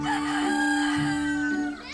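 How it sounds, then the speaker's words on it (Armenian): A rooster crow sound effect for an Armenian fairy tale: one sustained, loud, close cock-a-doodle-doo lasting about two seconds. "Աքլորը կանչում է."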